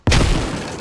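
A single close grenade blast from the game Squad: a sharp, heavy boom with a quick onset and a short rumbling decay, loud and alone.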